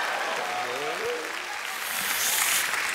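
Audience applause at a celebrity roast show, a dense patter of clapping from a crowd with a voice briefly audible over it, growing slightly louder near the end.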